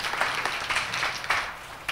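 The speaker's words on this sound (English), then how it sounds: "let's get a warm round of applause for Steve Wexler" Audience clapping for a speaker taking the stage at a data visualization talk, a brief burst of applause with soft, uneven claps heard at moderate distance.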